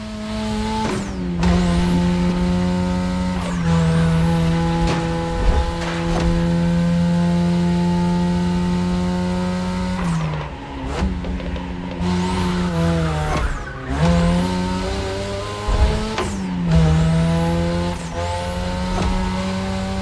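A 2002 third-generation Mazda RX-7 with a rotary engine races in The Crew Motorfest, its loud high-revving engine climbing through gears with sharp drops at each shift and repeated rises, continuous and close.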